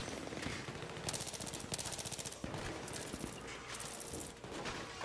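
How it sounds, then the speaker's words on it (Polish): Gunfire in the video game Battlefield 3: rapid automatic bursts crackle over a dense, noisy background, several strings of shots in quick succession at moderate, somewhat distant level. "ja na ślepce strzelam"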